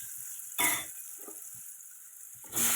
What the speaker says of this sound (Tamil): கொஞ்சம் கருவேப்பிலை, வெங்காயம், பச்சை மிளகாய் போட்டு நல்லா வதக்கிடலாம்